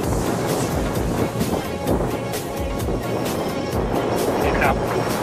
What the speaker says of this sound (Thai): ลมนะครับเสียงลมนะครับ